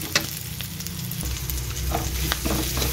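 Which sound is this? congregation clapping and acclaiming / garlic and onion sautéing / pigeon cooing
garlic and onion sautéing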